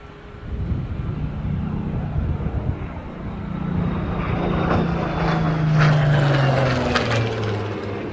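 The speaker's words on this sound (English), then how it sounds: "A Warbird says my ears, and the Seafire says my eyes." A Supermarine Seafire warbird propeller aircraft flies in, its engine drone swelling from faint to loud and then holding steady with a rising and falling whine.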